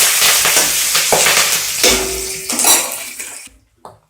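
Finely chopped green chillies, cashews and curry leaves sizzle loudly in a hot pan while a spoon stirs and scrapes the metal, with a steady frying hiss that cuts off near the end.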